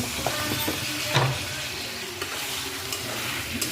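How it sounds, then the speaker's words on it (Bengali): A potol and fish-roe curry keeps up a steady sizzle and hiss in the pan after a splash of water is added, with a few light clinks of stirring. "জল দিয়ে দেবো।"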